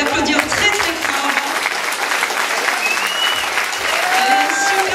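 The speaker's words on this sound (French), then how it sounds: "Cette lapine, elle s'appelle Verina Sunday, on peut l'applaudir très très fort" Loud, sustained applause from an audience at the end of a Christmas tale show, dense clapping with cheering voices mixed in, continuing steadily throughout.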